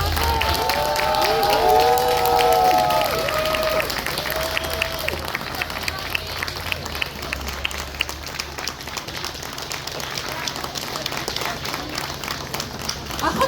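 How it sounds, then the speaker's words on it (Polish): Outdoor town festival crowd clapping and cheering for a preschool children's group after their performance, with shouts and whistles early on, then a long run of rhythmic, crisp applause from many hands, moderately near. "Wielkie brawa dla nich!"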